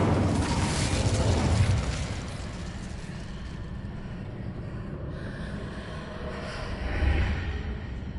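An Incendio fire spell in Hogwarts Legacy, cast as a loud, broad roaring burst of flame that gradually dies down to a steady rumble, then swells briefly again near the end. No speech is heard.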